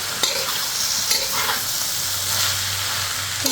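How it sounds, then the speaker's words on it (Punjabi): Okra (bhindi) fries in hot oil in a pan, giving a loud, close, continuous sizzle with stirring scrapes and a couple of sharp utensil knocks. "ਆਪਾਂ ਭਿੰਡੀ ਨੂੰ ਥੋੜਾ ਜਿਹਾ ਸੇਕ ਲਗਾਉਂਦੇ ਆ ਆਇਲ ਦੇ ਵਿੱਚ ਫਰਾਈ ਕਰ ਲੈਂਦੇ ਆ"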